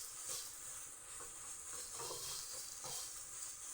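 Rice frying and being stirred in a pan in a home kitchen, with a steady close sizzle and hiss and a few soft scraping stirs, no talking.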